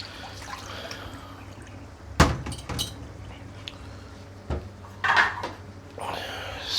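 Hot water drains from a pot of boiled potatoes for mash in a kitchen, with a clank of the pot, a pouring splash and trickle, then further clatter and running water in separate bursts.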